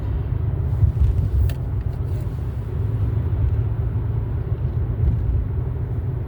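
Steady low engine hum and road rumble from a car being driven, continuous and close with no breaks, heard alone without voices.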